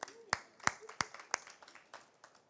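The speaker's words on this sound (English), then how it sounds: "Round of applause, please." A brief smattering of hand claps from a small audience at a home show, a few sharp claps at first that thin out and fade.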